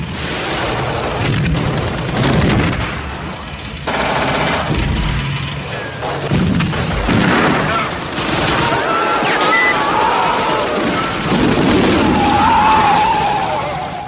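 A WWII film battle at a bridge between Allied troops and a German armoured division: loud, dense gunfire, bursts of machine-gun fire and booming explosions fill the whole stretch, with vehicle noise and voices mixed into the chaos.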